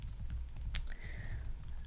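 Soft, quick keystrokes tap on a computer keyboard in a quiet room, close and gentle, with one louder click partway through.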